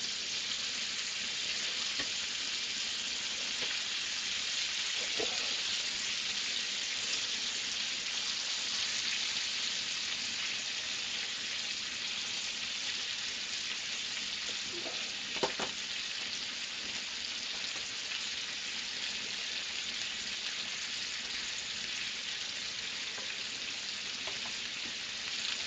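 Ribeye steak sizzling with garlic in a pan, a steady broadband hiss of frying that holds evenly throughout, with a few faint clicks and a brief scrape partway through.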